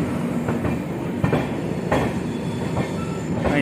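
The 12181 Dayodaya Express passenger train rolling on the Kota–Jaipur line, a continuous rumble with rhythmic clickety-clack wheel beats and faint squeal, heard from on board with no talk.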